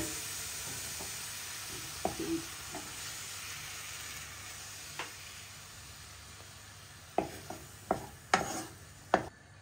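Ingredients for carbonara sauté in a pan with a quiet, continuous sizzle, punctuated by occasional scraping and stirring clicks that grow more frequent and louder near the end.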